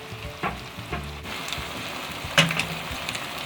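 Finely chopped capsicum drops into a frying pan of cabbage and egg, giving a light crackling sizzle with a few scattered clatters and a sharper spit partway through, close and fairly soft; no one speaks.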